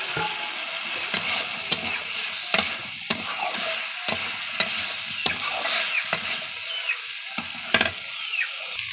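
Potatoes and soybean chunks sizzle in a hot pan while a spatula scrapes and stirs them, giving a steady crackle broken by sharp, irregular clacks against the metal, close and alone with no voices.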